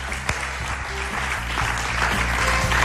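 Audience applause at the close of a Spanish-language programme, a steady wash of clapping under a low, repetitive musical bed with a single sharp knock near the start.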